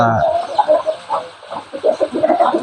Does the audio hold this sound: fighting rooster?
yes